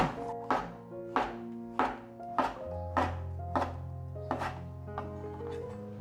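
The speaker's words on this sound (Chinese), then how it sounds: "把杏鲍菇切片" A knife slices king oyster mushrooms on a cutting board in about eight crisp, evenly spaced strokes, each a sharp thud close by. No one speaks.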